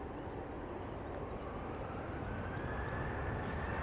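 A Virgin Atlantic flight arriving from Atlanta at Manchester Airport produces a steady, broad jet roar that rumbles on and grows slightly toward the end, from some distance, with no talking.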